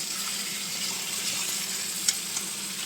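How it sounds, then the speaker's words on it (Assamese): Meat frying in a pan, a steady close sizzle that holds evenly throughout, with a couple of faint clicks and no talk. "এতিয়া মই আৰু অলপ ফ্ৰাই কৰি ল'ম।"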